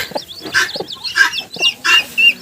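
High, thin peeping from chicks and guinea fowl keets, repeated in quick overlapping bursts close by, with a few lower clucks from a broody hen underneath.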